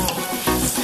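Spice ingredients sautéing in a pan for a village chicken curry, a loud, close sizzle with stirring scrapes pulsing through the brief moment.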